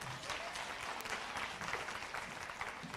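Audience applause fills a hall at a fraud and corruption imbizo, a steady, dense clapping from a large crowd that holds at an even loudness throughout, with no speech over it.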